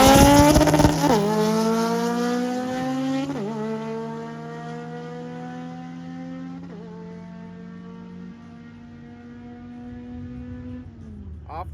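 An all-motor K24-powered Integra drag car launches hard and screams down the strip, its engine climbing through several rising gear pulls with sharp drops between shifts before fading off into the distance.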